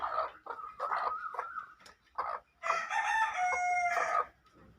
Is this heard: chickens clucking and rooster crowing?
yes